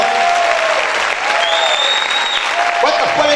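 A church congregation claps loudly and steadily in a dense, continuous wash of applause, with voices faintly audible beneath it.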